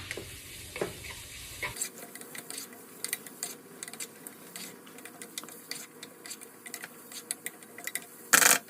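Chorizo sizzles in a pot as it renders fat for chicken poblano soup, a close crackling fry with irregular ticking pops and spoon clicks, and a louder scrape at the end.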